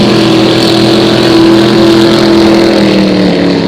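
A loud, sustained roar of powerful vintage racing boat engines at high revs at the green-flag start of a regatta heat, droning steadily with a strong engine whine and no talking.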